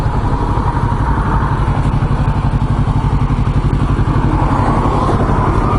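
Kawasaki Ninja 650R motorcycle engine during break-in, a steady loud close-up drone as it is run up and the RPMs raised, with a continuous rumbling throb and no voices.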